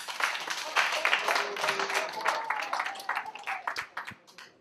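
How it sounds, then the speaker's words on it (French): An audience applauding in a hall, dense clapping that swells and then gradually thins out and fades over a few seconds, with some voices mixed in. "je souhaiterais que vous vous acclamiez, s'il vous plaît, pour vous-même"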